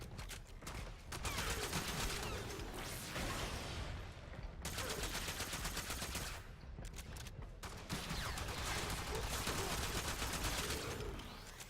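Rapid, sustained automatic fire from the Attica crossbow against corrupted gunners in the video game Warframe, dense volleys of shots with two brief pauses, loud throughout.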